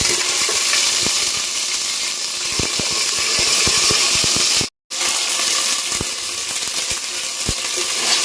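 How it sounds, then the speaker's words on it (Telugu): Ginger garlic paste frying in hot oil with spices for a garlic biryani chicken curry: a steady, close sizzling hiss punctuated by scattered clicks and scrapes of stirring, with one brief dropout. "అల్లం వెల్లుల్లి పేస్ట్ అండి. ఇది కూడా నూనెలో వేయించుకోవాలి."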